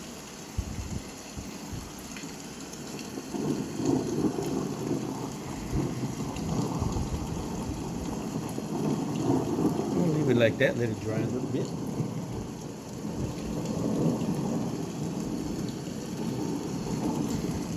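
Steady rain with low rumbles of thunder rolling in the background, heavy and continuous, while someone speaks briefly over the storm.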